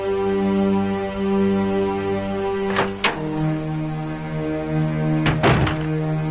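A door in the original Resident Evil opens after a key is used. Two separate heavy thunks and a rattling clatter sound over a steady droning hum, close and fairly loud.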